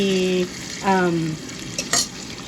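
A paneer curry mixture fries in oil in a pan with a steady sizzle, while a spoon stirs and scrapes through it in short strokes, close by, and a faint tone sits in the background.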